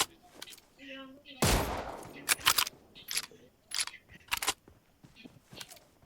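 Gunfire in a fast-paced video game, with scattered close shots and a loud burst of fire that come irregularly among other game noises.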